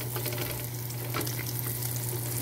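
Onion and poblano chile frying with potatoes and bacon in a pan, a steady, dense sizzle that runs unbroken throughout, close and fairly loud, with a constant low hum beneath it.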